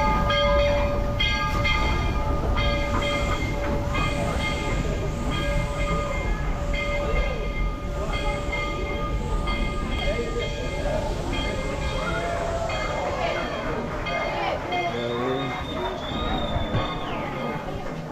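A steam locomotive train rumbles past with a steady low roar and rattle, a horn-like tone sounding partway through, continuous and fairly close.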